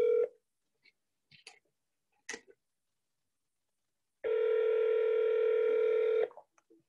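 Telephone dialing tones: a few short touch-tone beeps spaced apart, then a long steady tone lasting about two seconds, clear and close with no talking.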